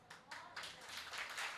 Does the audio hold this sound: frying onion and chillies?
no